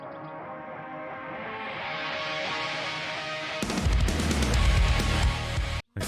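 A Sevendust song plays, opening with a quieter sustained tonal passage that swells, then breaking midway into a loud, dense, pounding heavy rock section, with a brief dropout just before the end.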